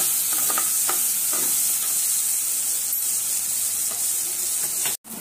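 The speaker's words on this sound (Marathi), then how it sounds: "कांदा चांगला लाल होईपर्यंत परतून घेऊ." Chopped onion frying in a pan with bay leaf for a dry liver dish, a loud, continuous sizzle and hiss with occasional stirring scrapes, close up and without talking.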